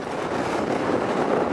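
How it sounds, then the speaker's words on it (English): Wind buffeting the microphone on a Scottish mountain summit near Beinn Tulaichean, a constant loud rushing roar with gusty swells and no talking. "it's certainly got blowy on top"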